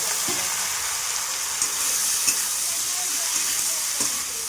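Continuous loud sizzle of onion and ridge gourd frying in a pan, with a few soft clinks of a utensil stirring.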